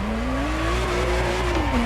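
A McLaren supercar driving in The Crew Motorfest, with a steady engine drone that rises and falls in pitch, close and continuous, accompanied by light tire noise and no talk.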